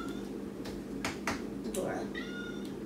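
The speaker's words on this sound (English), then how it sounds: "We locked the poor kitten out of the kitchen, mm-hmm. and she wants up here" Kitten shut out of the kitchen meows repeatedly, several short, clear cries spaced across the moment, with soft kitchen clatter and faint talk in the background.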